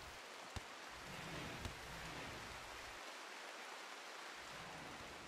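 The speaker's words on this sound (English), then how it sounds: "Okay, we've got some rain." Steady rain from the video game RimWorld, a soft even hiss of falling water spread across the whole clip, faint and continuous with a couple of brief clicks and no voices.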